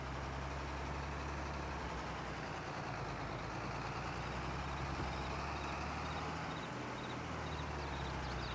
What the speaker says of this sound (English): Yeah, there's the trucks.